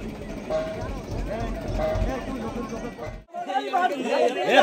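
A crowd chatters at a ferry ghat on the Dutta river in the Sundarbans ahead of a boat race, a dense babble of many voices, close and lively, with a brief dip before rising again.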